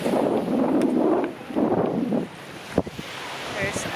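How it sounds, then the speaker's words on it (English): Gusty wind at a sunny beach roars across the microphone in strong buffeting waves, easing and returning, with faint surf and a soft distant voice underneath. "such a nice day to be on the beach today. It's windy"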